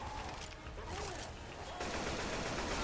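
Rapid automatic gunfire from several weapons pours onto the Tank in the Left 4 Dead 2 campaign The Passing, a dense continuous barrage that grows louder and fuller partway through.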